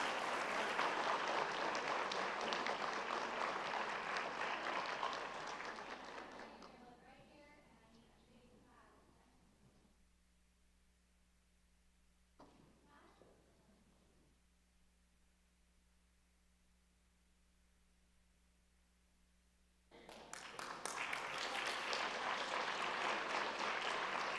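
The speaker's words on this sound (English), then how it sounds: "let's give a round of applause to these students for this amazing achievement" A school board meeting audience applauds students, loud sustained clapping that fades out, then a quiet stretch with a brief bit of talk before a second loud burst of applause.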